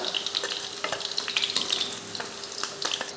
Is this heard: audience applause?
no